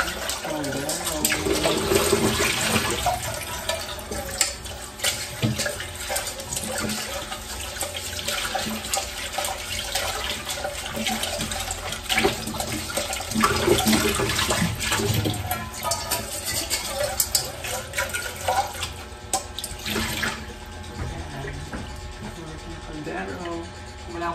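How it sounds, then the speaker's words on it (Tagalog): Tap water runs steadily into a kitchen sink while rice is washed, a continuous close splashing rush with some clinking, as someone talks over it. "Yan na ang bigas na hugasan natin"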